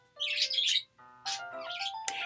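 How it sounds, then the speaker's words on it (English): Birds chirp and warble outdoors in several bright, close bursts with short pauses between them. Nobody talks. "all of a sudden the birds had to ruin the moment"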